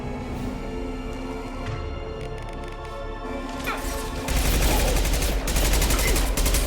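Rapid gunfire in the video game Mass Effect 2 during combat, a dense continuous fusillade that swells louder halfway through, with game sounds layered over it.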